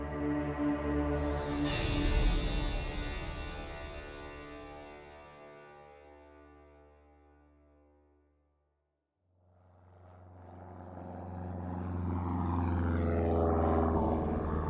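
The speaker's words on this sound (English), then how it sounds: "Peter Pio felt a rush of anticipation as he stepped off a plane onto an airstrip located 75 miles from Yambuku" A plane arrives at an airstrip about 75 miles from Yambuku in Zaire. Its engine tone sweeps steadily downward and fades to near silence, then a second loud engine roar swells back up. No voices are heard.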